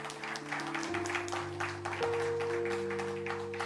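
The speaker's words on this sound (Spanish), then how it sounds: "Dele un aplauso al Señor," A church congregation claps in a scattered, continuous patter, with sustained keyboard chords ringing underneath.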